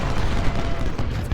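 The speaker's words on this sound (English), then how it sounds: "Hang on, let them have a volley. We're about to fire." In Ultimate General: Civil War, musket volley fire makes a dense, loud rumble of overlapping shots that blend into one sustained booming burst.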